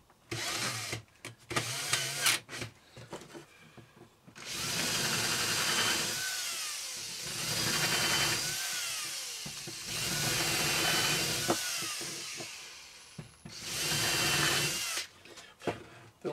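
Power drill countersinking screw holes in wood for a thread rack, several short bursts of whirring followed by longer steady drilling runs that rise and fall, close and alone.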